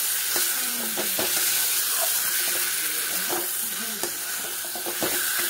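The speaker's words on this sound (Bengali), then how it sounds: "তারপরেও আমি আর একটু সময় এরকম কষাবো।" Pointed gourd and egg cook down with spices in a pan that is drying out, giving a continuous close sizzle and hiss with repeated stirring knocks and scrapes.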